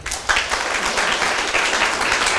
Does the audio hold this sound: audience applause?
yes